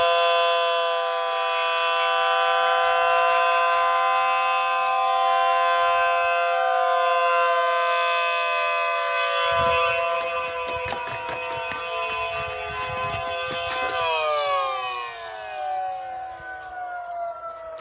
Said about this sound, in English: The Hickory Ridge siren went off a few seconds later than it normally does.